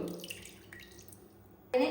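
Water is poured into tamarind water in a home kitchen while cooking, a faint, low trickle that ends with a brief, louder splash, with quiet talk in the background.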